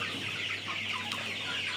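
Chickens on a poultry farm cluck softly in a short burst of quick, scattered calls. The clucks sit over a quiet background hum.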